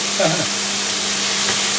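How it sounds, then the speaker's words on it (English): Steady sizzling of chicken frying in a pan for chicken cacciatore, a constant hiss with a low hum underneath and a brief clatter near the start. "So what I'm doing now is just really frying it off."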